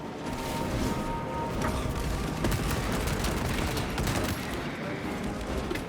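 Sustained suppressive gunfire in the game Warhammer 40k: Space Marine 2, a dense, continuous roar of shots and impacts that stays loud and close throughout with no clear breaks.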